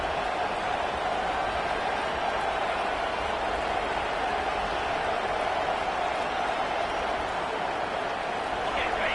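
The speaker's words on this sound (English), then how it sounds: "this crowd is fired up. Listen to this noise here." A steady roar of a large football stadium crowd during a playoff game, loud and continuous with no breaks, while a commentator talks over it.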